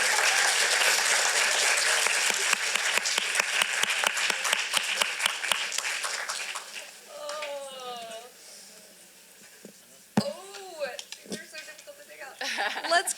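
Audience applause after a young playwrights' festival cold reading, a dense burst of clapping that thins into scattered claps and fades, then someone speaks over the quiet room.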